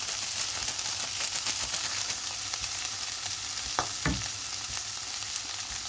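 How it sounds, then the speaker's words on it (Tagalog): Chicken liver fries in a pan with a steady, broadband sizzle, and a spoon stirs through it with brief scraping strokes near the four-second mark. "Tapos halo-haloin natin"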